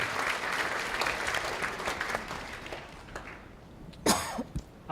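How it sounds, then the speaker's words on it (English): Audience applause at a meeting, a dense stretch of clapping that tapers off midway, followed by a couple of loud nearby coughs and throat clearing as the room settles. "Give a round of applause"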